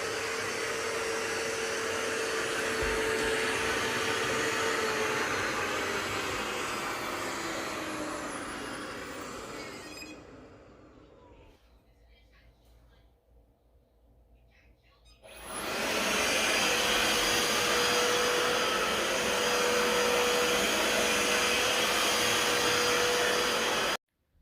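An iLife V9e robot vacuum on max power mode roars loudly with a steady high-pitched whine, dips quieter for a few seconds, then surges back to full power.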